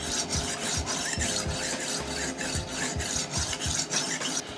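A bolsterless chef knife is drawn repeatedly across a diamond sharpening stone, giving a steady rhythm of short gritty rasping strokes, close and moderately quiet.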